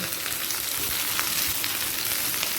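Pointed gourd, pumpkin and taro fry in a pan with oil for labra, giving a steady, dense, close sizzle that holds throughout with a few faint stirring scrapes and no talking.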